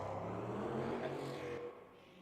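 A Cadillac race car in a racing video game laps the Fuji circuit, its engine a faint, distant steady whir with harmonic tones that eases off slightly toward the end.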